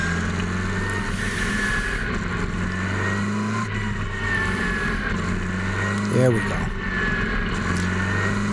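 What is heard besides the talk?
NEMA Lite race car with Ford Focus engine racing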